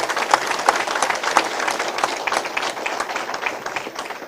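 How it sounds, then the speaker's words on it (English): Audience at a hometown heroes ceremony honoring a long-serving officer claps, a dense patter of many hands that peaks early then gradually softens, fairly close, with no talk. "let's give him a round of applause for that"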